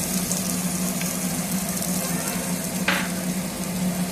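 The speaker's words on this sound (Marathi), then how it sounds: "बघा, तेल तापलेलं आहे। आता आपण ह्यात जिरे मोहरी टाकणार आहोत।" Cumin and mustard seeds sizzle steadily in hot oil in a pan, a dense crackling fry close up with a few brief sharper pops.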